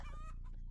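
A cartoon chicken in the video game Bomb Chicken lets out a quick run of clucks, loud and close, with no talk over it.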